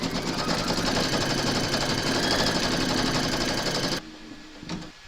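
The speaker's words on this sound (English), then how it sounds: "you're going to stitch round number 1, and that's going to give you the place and outline for your batting" An embroidery machine stitching an outline for an in-the-hoop snowflake, a steady, loud, rapid mechanical chatter that runs for about four seconds and then stops, leaving a faint hum and one soft knock.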